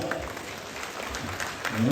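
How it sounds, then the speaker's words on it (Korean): Spectators at a Korean bull-fighting contest final applaud, a fairly faint, diffuse patter of clapping across an outdoor crowd, with an announcer's voice rising over it at the end. "박수 한번 주시기 바랍니다"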